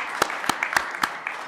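Audience applause at a government press conference marking the Armenian prime minister's first year in office, scattered claps spread over a steady wash of clapping, moderately loud throughout.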